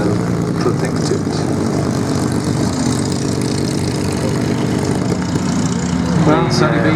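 A Boeing B-17G bomber named Sally B drones past at an airshow, its propeller engines giving a steady, loud, continuous roar with a commentator's voice over the PA running beneath it.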